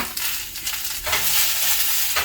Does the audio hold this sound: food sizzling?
yes